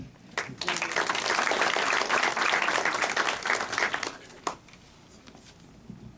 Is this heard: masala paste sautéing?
no